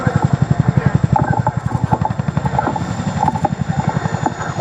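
An RAF Chinook tandem-rotor helicopter at an airshow, giving a loud, steady rhythmic rotor thudding with fast regular blade beats throughout, heard close and alone.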